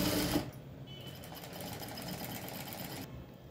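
A sewing machine runs steadily for about three seconds, stitching cloth along a 1 inch marking; the motor hum is close and even, starting and stopping abruptly with no talking.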